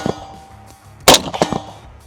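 A rifle shot fired at a distant steel target: one sharp, loud crack in the middle, followed by a couple of fainter bursts, against a quiet outdoor background.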